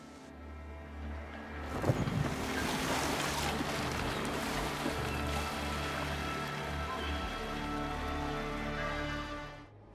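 A Viking sailing boat out on the sea in Assassin's Creed Valhalla, heading for Ireland: continuous rushing water and wash against the hull with a surge near the start, steady and fairly close, fading out at the end.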